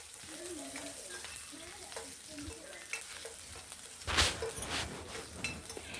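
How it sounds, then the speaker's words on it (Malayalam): Garlic and chopped green chillies sautéing in oil for tomato chutney, a steady soft sizzle under stirring, with a louder clattering scrape of the spoon near the end. "ഇട്ട് നന്നായിട്ട് വഴറ്റിയെടുക്കാം."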